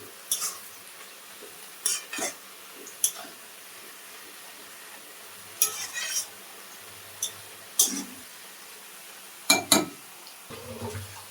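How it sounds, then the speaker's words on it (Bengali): Thankuni (Indian pennywort) leaves frying in a pan with salt and turmeric, a soft steady hiss under repeated scraping and clinking of a spatula against the pan, stirred in irregular bursts, close and alone. "থানকুনি পাতাগুলো একটু ভাজা হয়ে গেছে"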